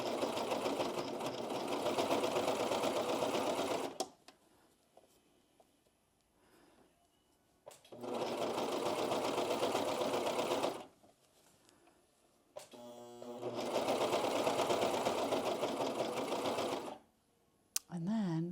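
A close sewing machine whirs in three sustained bursts, stitching down a pajama seam, with short pauses of quiet handling and fabric shifting between runs.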